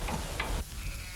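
Sheep bleating on a farm during work to clear fly-struck sheep, a short burst of bleats close by at the start that trails off, with handling noise around it.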